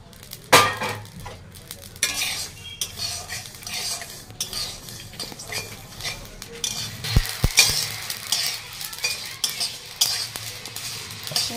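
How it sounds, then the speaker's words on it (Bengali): Spices frying in a pan for garlic pickle, with metal utensil scrapes, clinks and stirring over a soft sizzle, close and irregular, no talk. "মশলাটা ভাজা হয়ে গেছে"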